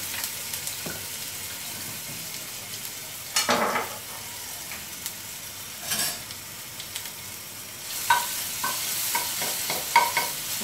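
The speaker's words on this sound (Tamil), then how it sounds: "இஞ்சி பூண்டு வந்துட்டு நல்லா எண்ணெயில் நல்லா வதங்கி" Ginger garlic paste sizzles steadily in oil while stirred around a pan, with scraping bursts and occasional clatter from a utensil.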